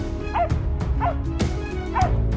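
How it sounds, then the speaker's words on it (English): Several hunting hounds bark and yip furiously in quick bursts, close and loud, with a whining edge between barks over a rumbling background, as a wild boar charges. "the sudden, furious barking of our hounds jolted our senses"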